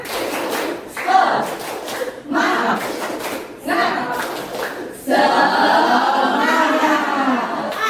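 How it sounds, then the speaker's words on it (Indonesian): A school class performs the 'tepuk semangat' spirit clap, rhythmic bursts of group clapping and chanting voices in a classroom, growing into a louder sustained cheer near the end. "Kita tes support semangatnya dulu ya. Yuk, tepuk semangat."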